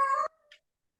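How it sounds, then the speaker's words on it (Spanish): A cat gives a single short, clear meow, followed by a faint tail of sound and then silence. "Perdón el maullío de."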